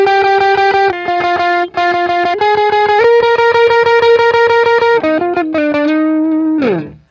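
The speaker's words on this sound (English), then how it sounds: "you get a pretty fat, thick distortion when on bar chords" A heavily distorted electric guitar through a Stax Odrive-1 overdrive pedal plays sustained notes and a short melodic line, thick and buzzing, ending with a quick downward pitch slide.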